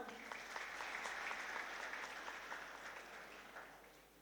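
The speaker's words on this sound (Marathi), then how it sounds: "एकदा स्वतःसाठी सगळ्यांनी टाळ्या वाजवा" A crowd claps for college students and staff at a Sankalp 2023 event, steady dense applause holding strong throughout and easing slightly toward the end.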